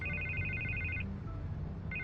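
A telephone rings in a Batman video game, an electronic trilling ring repeating in bursts with a pause between, loud and near over a low ambient hum.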